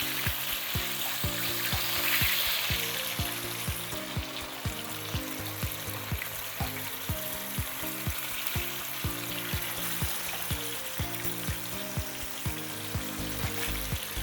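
Fish fries in a hot pan, a steady crackling sizzle broken by rhythmic sharp pops and spatters, close and moderately quiet, with no talking.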